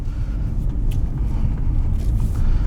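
A Honda Element LX AWD with an automatic transmission rolls along a road, giving a steady low rumble of engine and tire noise heard from inside the cabin.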